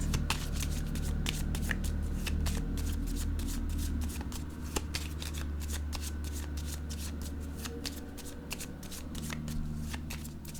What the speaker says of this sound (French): je vais brasser les cartes en regardant cette carte